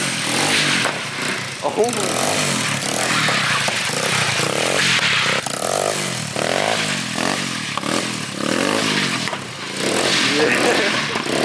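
A 125cc engine on a drift trike built from the back end of a quad, revving loudly and continuously after a kick start, with harsh mechanical clatter throughout and excited shouting over it.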